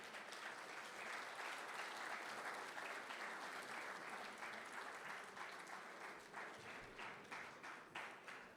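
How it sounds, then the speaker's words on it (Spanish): A church congregation at an anniversary service applauds, dense sustained clapping from a large crowd that carries on steadily and then thins into more distinct claps near the end. "recibámoslos con fuertes aplausos"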